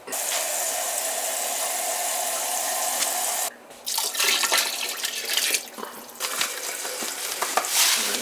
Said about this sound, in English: So, I gotta add some more water to it.